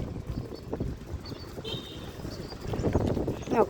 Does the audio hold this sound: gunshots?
no